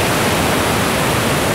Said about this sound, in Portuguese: Eu tô no topo da cachoeira aqui, ó.